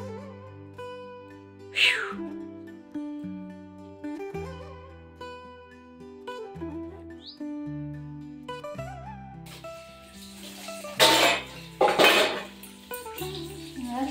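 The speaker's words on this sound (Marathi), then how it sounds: "भांडी घासायची मजा आहे गावाला." Dishes and cutlery clatter and clink close by in scattered bursts as they are washed by hand in a bucket in a village, louder toward the end, over steady background music.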